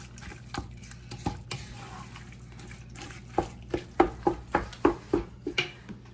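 Rendered fat from browned ground beef being drained in a kitchen, a run of distinct drips and splashes with a clinking pan or utensil, growing louder and more regular toward the end over a low steady hum.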